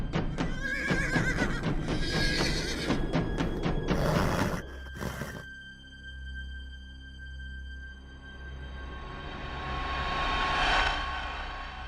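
A horse lets out a long, loud whinny with sharp rising and falling pulses, then a hushed pause before a soft, swelling whoosh builds near the end.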